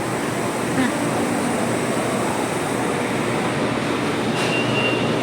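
Steady rumbling roar of a crowded electric train in motion in Thailand, a continuous broadband rush with faint squeals, heard from on board or close by.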